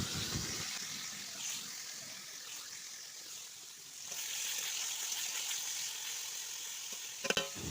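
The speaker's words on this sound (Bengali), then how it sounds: "আমি এইগুলো এবার তেলে ছেড়ে দেবো ভাজা হওয়ার জন্যে" Ridge gourd pieces frying in hot oil give a steady, close sizzle that swells slightly midway, with a couple of sharp clinks near the end.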